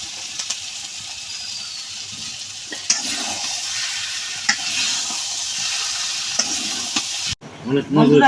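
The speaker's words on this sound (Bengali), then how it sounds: "আমি মাছ দিয়ে একটু বাজা বাজা করি" Fish frying in a pan for an eggplant curry, a steady bright sizzle with a few light stirring knocks, ending in a short clatter of handling noise; no talk.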